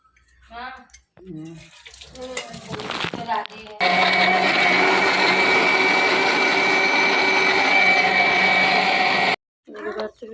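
A mixer grinder whirs steadily as it blends pineapple for juice, a loud continuous motor drone lasting several seconds, bracketed by speech before it starts and after it stops.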